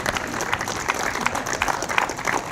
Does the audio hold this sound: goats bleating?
no